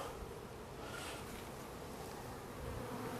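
Honeybees hum in an open hive, a dense continuous buzz close at hand with no voices.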